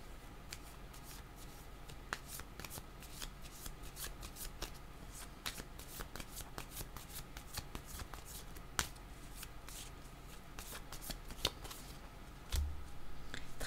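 Tarot cards being shuffled by hand, a steady run of soft riffling flicks and sharp snaps repeating throughout, close and fairly quiet over a low room hum, with no talking.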